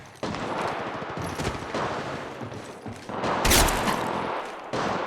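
Automatic gunfire in the mobile battle royale game Apex Legends Mobile: dense, loud rapid bursts of shots in several volleys, one sharp blast midway, continuing to the end without talk.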